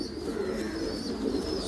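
A Ferozpuri breed pigeon coos close by, a low rolling throaty call that swells and repeats through the moment, alone without talk.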